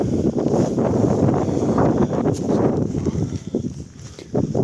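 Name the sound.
strong wind on Helgafell mountain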